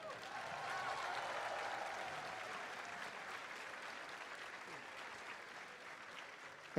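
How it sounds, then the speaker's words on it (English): At a Capcom Cup fighting-game tournament, a crowd gives sustained, fairly distant applause for the competitors, swelling early and then tapering gradually before an abrupt cut. "please give a warm round of applause to all 32 of our competitors here today."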